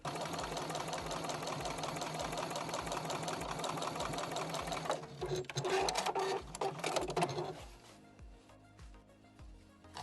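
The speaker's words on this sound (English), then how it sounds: "I'm just going to sew with a 1/4 inch seam allowance" A sewing machine stitches fabric scraps with a quarter-inch seam in a fast, steady mechanical run up close. Halfway through it slows and stops, giving way to rustling and handling sounds.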